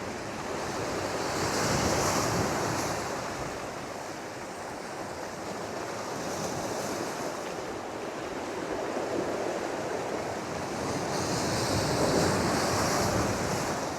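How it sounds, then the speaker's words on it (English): High surf at Point Judith washing in and pulling back from the shore, a continuous roar of waves swelling and easing, mixed with steady wind buffeting the microphone. "listen to the sound the waves make when they pull back from the shore."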